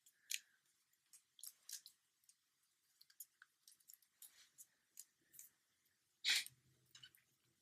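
Origami paper being folded in half while building a model rifle, giving a series of soft crisp crinkles and creases spaced irregularly, with one louder, sharper crackle near the end, close and quiet, no talking.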